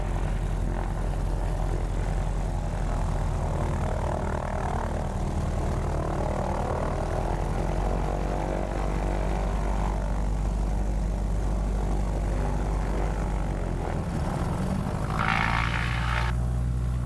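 Beech 18 twin-engine propeller airplane in flight, a loud continuous radial-engine drone with steady propeller hum throughout and a brief rise in noise near the end.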